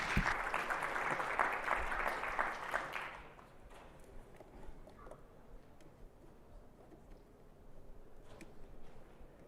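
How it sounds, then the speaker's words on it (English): Applause from a conference audience at BazelCon 2025 in Atlanta rises as a dense patter of clapping for about three seconds, then drops off abruptly to a quiet room hum with a few scattered sounds. "please give him a warm round of applause"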